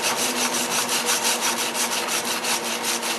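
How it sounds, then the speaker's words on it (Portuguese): A wire brush scrubs an aluminum cylinder head before welding, with steady, rhythmic back-and-forth strokes, close and harsh, about six passes per second and no talking. "antes eu vou passar a escova para tirar totalmente a sujeira que tiver no lugar"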